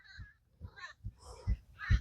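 Crows caw outdoors near the Jejuri temple in a run of about five harsh calls, spaced roughly half a second apart, that grow louder toward the end, with no talk.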